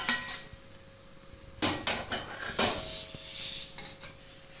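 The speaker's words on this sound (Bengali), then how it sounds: "ভেজে রাখা আলুগুলোকে দিয়ে দিচ্ছি।" Fried potatoes tipped into a pan of curry with aubergine and yardlong beans, giving a few sharp metallic clatters and scrapes of a spoon against the pan between quiet gaps, close and fairly loud.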